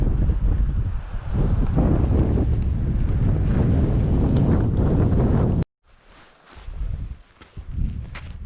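Strong wind roars across a boat on open water during a fishing outing, loud and continuous with buffeting gusts, then cuts out abruptly and returns more weakly with lighter gusts.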